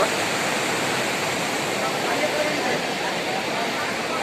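The Ganga river rushes past near Gangotri in the Himalayas, making a loud, continuous roar of fast-flowing water that stays close and constant from start to finish.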